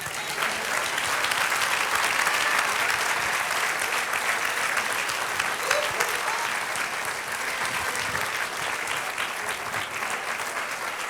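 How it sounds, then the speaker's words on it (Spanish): A church congregation applauds to the Lord during a Spanish-language sermon, a sustained, full roar of many hands clapping at steady loudness for about eleven seconds, with faint voices mixed into the crowd. "Denle un aplauso al Señor."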